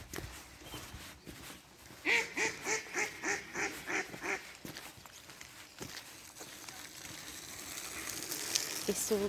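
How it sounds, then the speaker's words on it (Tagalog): A flock of wild ducks quacks in a rapid run of about eight loud calls close by, then goes quieter with scattered calls and outdoor rustling, in fresh winter air. "itik"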